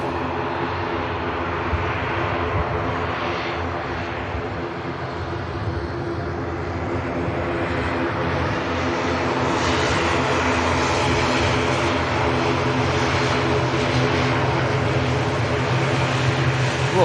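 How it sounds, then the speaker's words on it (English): A Pilatus aircraft lands at Manchester Airport in rainy weather, its propeller engine a steady, broad roar that swells slightly as it nears touchdown and holds throughout. "And there is the Pilatus next to touchdown."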